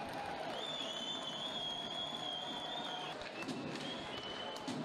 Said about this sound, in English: Even the Flyers are applauding that.